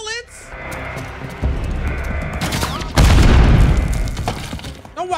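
Gunfire and breaking debris from a Call of Duty MW3 campaign mission on veteran difficulty, a rattling volley building to a loud burst of fire with crashing impacts, with in-game voices heard over it.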